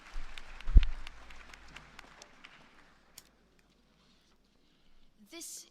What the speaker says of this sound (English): let's give her a round of applause at the beginning